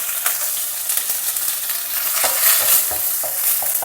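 Curry leaves, dry red and green chilies and groundnuts fry in hot oil for a South Indian festival dish, a bright continuous sizzle with quick stirring clatter close by.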